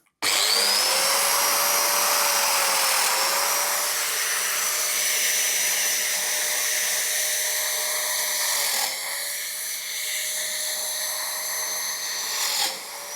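A Festool joiner set to its narrow setting cuts slots into the front edge of a wooden board, giving a steady loud high whine that runs continuously with a few brief dips in pitch as the cutter bites.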